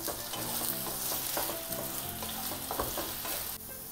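Chilli mushroom sizzling in a hot pan just after a splash of vinegar, stirred briskly with steady scraping strokes over a constant close fry, no voices.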